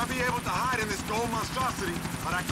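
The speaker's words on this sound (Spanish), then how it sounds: "Destruye los helicópteros de la policía que te persiguen." Police helicopters chase the player in GTA IV: The Ballad of Gay Tony, a steady rotor thudding beneath someone talking excitedly over the game sounds.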